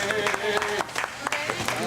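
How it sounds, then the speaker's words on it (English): Audience applause for the toy store manager, a short burst of scattered clapping with a voice talking over it. "nice round of applause for Tony"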